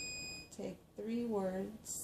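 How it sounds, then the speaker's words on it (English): An electronic alarm chirps in a craft workspace, a steady high tone cutting off and then returning in a brief chirp at the end, while a person talks over it. "and that's my alarm"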